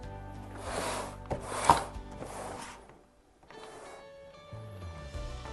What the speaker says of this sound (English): You pull out on the locking pin and release.